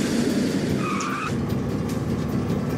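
A truck swerves hard during a car chase, tires skidding with a brief squeal over a steady, loud engine roar and road rumble that runs throughout.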